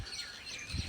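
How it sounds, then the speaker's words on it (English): Parrots call at Chitradurga Fort, giving a quick burst of faint, distant chirps over a soft outdoor background. "And here you can hear parrots. Lots of parrots are here."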